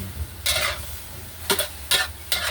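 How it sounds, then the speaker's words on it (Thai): Pork belly stir-fried with cabbage and garlic, a soft background sizzle broken by four short, bright bursts of spatula scraping and tossing in the pan. "ผัดต่อเลยครับ"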